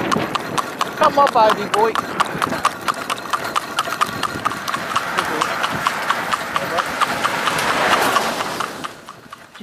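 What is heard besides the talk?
Shetland pony cantering in harness, hooves clip-clopping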